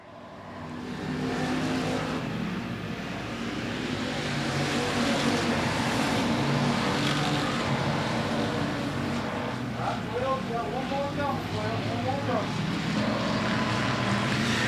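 Race cars lapping a raceway track at Golden Triangle Raceway Park, engine roar swelling in and then holding loud and sustained, with a race announcer talking over the din.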